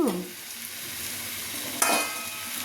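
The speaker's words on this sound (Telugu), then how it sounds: "ఇంకా వేగాలండి కొంచెం హాఫ్ వేగింది ఇంకొక హాఫ్ వేగాలి" Okra frying and being stirred in a pan, a steady soft sizzle with a brief louder burst of crackle partway through, no voices.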